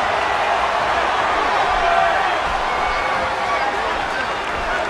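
A wrestling crowd at a live indoor show keeps up a steady, dense roar of cheering and applause throughout, loud and unbroken with no single voice standing out.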